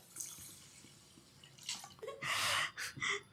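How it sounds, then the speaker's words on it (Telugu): Water splashes and pours onto sugar in a container in a couple of short bursts, close by, with quiet gaps between them. "ఇప్పుడు చక్కెర పోసి వాటర్ పోసుకున్నాం కదా"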